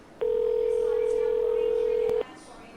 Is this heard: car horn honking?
no